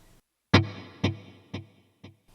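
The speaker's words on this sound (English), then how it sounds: "Let's hear the quarter without the reverb." A dry guitar note through an HX Stomp quarter-note delay with no reverb, followed by three evenly spaced repeats, each about half a second apart and fading quieter than the last.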